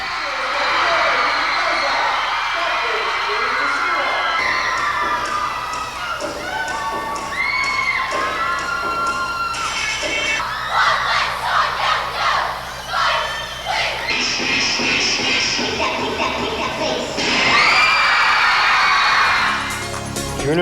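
Cheering and shouting from school cheerleaders and a crowd at a Catholic high school event, a loud continuous roar with high children's shouts and occasional thuds throughout.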